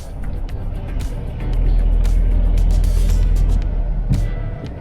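A 2020 Mercedes GLB on traction-test rollers during an off-road test, its engine and drivetrain droning louder as it pulls forward, with wheels churning and scattered clicks and knocks over the steady noise.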